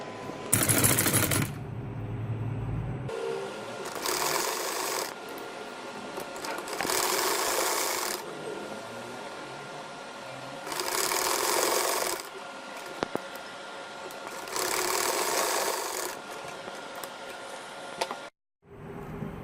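A sewing machine stitches the seams of a six-month baby boy's shirt in several bursts, each running a few seconds with short pauses between, close and fairly loud with no talking.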